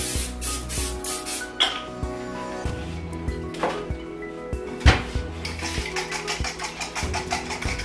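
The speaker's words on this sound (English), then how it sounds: "we're gonna just spray a little bit on the pan." Several short hissing bursts of olive oil spray onto a pan in quick succession near the start, followed by clinks and scrapes of the pan and utensils.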